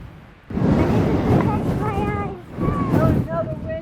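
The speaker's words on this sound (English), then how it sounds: "Oh, a big gust of wind just blew in all of a sudden." A sudden big gust of wind hits a hiking overlook, a loud roaring rush that swells from quiet and buffets the microphone for several seconds, dipping briefly before surging again while people's voices carry over it.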